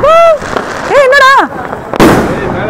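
Firecrackers go off outdoors with sharp, loud bursts and crackling, mixed with excited voices talking and calling out close by.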